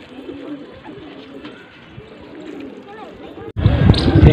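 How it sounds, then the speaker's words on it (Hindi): Soft low cooing of pigeons in Amroha, India, under a murmur of background voices, then a sudden louder rumble of wings or handling near the end. "ये इनके कबूतर।"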